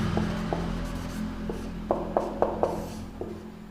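Pen on paper as equations are written out by hand, a series of soft scratchy strokes and taps that grow denser midway, over a low steady room hum.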